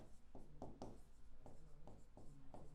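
A pen scratches across paper in short, rhythmic strokes, close and quiet, about seven distinct bursts of writing while a maths problem is worked out, with no talking during the strokes.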